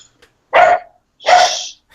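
A dog barking indoors, two sharp close barks about a second apart with silence around them.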